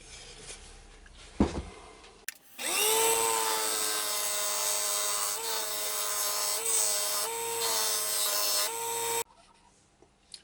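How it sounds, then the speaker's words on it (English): Square-tipped carbide cutter biting into wood spinning on a lathe for a special urn: a steady, loud scraping whine runs for about seven seconds, with a shop hum and faint handling before and after. "I'm just going in at it with a square tipped carbide cutter."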